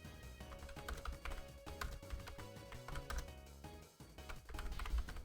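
Rapid, uneven tapping on a computer keyboard, close and continuous, with no voices.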